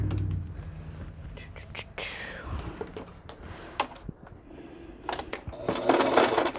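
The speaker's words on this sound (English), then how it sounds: "you get to hear me sew" A sewing machine stitches fabric in short, uneven bursts of rapid clattering, close and fairly quiet, with soft whispered talk between runs.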